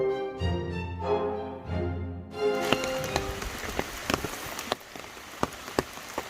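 Rain patters steadily on a surface nearby on the Appalachian Trail, with scattered louder drops tapping irregularly, following a brief stretch of tonal music at the start.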